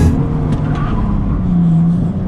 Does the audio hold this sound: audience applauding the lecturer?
no